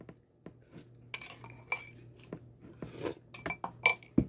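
Spoon clinking against a glass while a drink is stirred, scattered light taps and rattles growing busier toward the end, close and fairly quiet, no talk.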